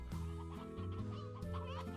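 Chickens clucking in Slime Rancher, a series of close, choppy clucks and bawks in quick irregular bursts, fairly quiet overall.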